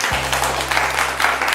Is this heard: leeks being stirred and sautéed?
no